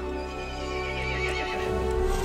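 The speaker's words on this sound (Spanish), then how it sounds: "El caballo se enfureció y llamó a las otras criaturas." A horse in the video game Resident Evil Village lets out a long, loud, wavering neigh, close and alone over a low droning backdrop.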